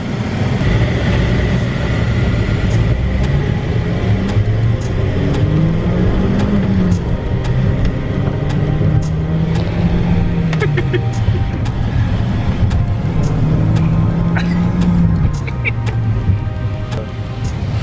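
A Corvette C6 Z06 with its engine reinstalled revs hard at full throttle, its loud, close roar climbing and falling through several long pulls while people talk over it.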